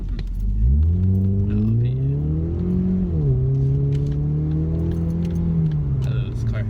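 A car's engine drones steadily on a freeway, rising and falling with gear changes and acceleration, loud and close from inside the cabin, with faint rattling and no talk.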